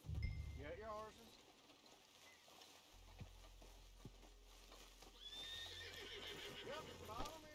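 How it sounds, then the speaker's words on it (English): Horses in the Red Dead Online video game neigh and whinny loudly near the start, followed by steady clip-clopping hooves, with a voice talking over parts of it. "Get your horses."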